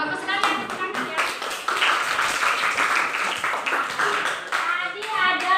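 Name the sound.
classroom applause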